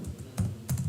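A computer keyboard is typed on during a programming lesson, with two short, close clusters of quick keystrokes separated by quiet moments.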